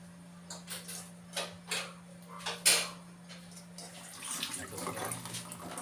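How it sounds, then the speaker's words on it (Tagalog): Water pours and splashes into a metal cooking pot holding tilapia for paksiw, with a few clinks of cookware and a brief louder splash partway through. "Nagyan tubig ng kunti."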